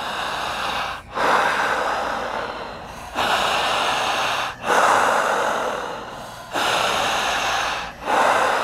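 Deep breaths drawn in and pushed out in a slow, steady rhythm, four long loud exhalations with brief pauses between, close to the microphone.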